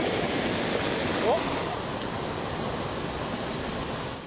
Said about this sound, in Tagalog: Malakas din ang agos ng tubig sa ilog sa bayan ng Tubay.